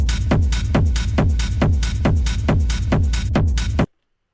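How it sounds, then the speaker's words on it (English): An electronic techno drum loop built around a heavy kick, about eight booming hits in a steady four-on-the-floor pulse with hi-hat texture between them, loud and alone, stopping abruptly into silence. "The drums sound like this."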